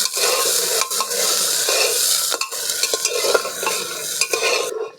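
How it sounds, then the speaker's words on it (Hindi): Onion, green chili and garlic cloves are stirred and fried in hot mustard oil, with a loud, steady sizzle close by and repeated scraping and clinking of the spoon against the pan. "पहले डालेंगे इसमें प्याज, हरी मिर्च, लहसुन की कली। इसको चलाते हुए भून लेंगे।"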